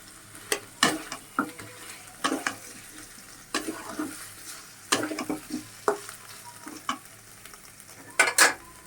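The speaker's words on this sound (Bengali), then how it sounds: "কিছুক্ষণ আমি এটাকে কষাই নিব" Chicken fries in a pan with ginger, garlic and salt, a soft sizzle punctuated by sharp, irregular clanks and scrapes of a spatula stirring against the metal.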